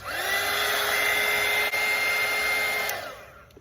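A hair dryer runs steadily at full blast, held close over a wet watercolour painting, with a constant whine; it continues for about three seconds and then winds down and stops.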